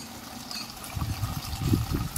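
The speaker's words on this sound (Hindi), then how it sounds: "मुर्गियों के लिए पानी भरा जा रहा है" Water trickles and pours in short, uneven low bursts while being filled for chickens outdoors, moderately close and fairly soft.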